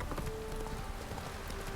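Roach the horse's hooves clip-clop in The Witcher 3, a quick steady run of hoofbeats lasting under two seconds with a faint voice over them.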